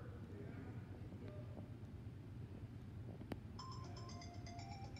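A lost TV remote ringing after being called from a phone, a faint electronic melodic ringtone that starts near the end, preceded by quiet room noise and a sharp click.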